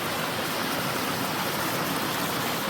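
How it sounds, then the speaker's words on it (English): Cold spring water gushing straight out of a hillside in northeast Iowa, a steady, full broadband rush of flowing water heard close and continuous with no talk over it. "Cold water spring right out of the side hill."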